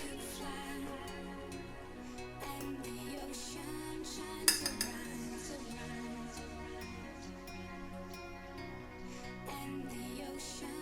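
A metal fork clinks sharply against a dish a few times in quick succession near the middle, during cooking of battered fried chicken, over steady background music.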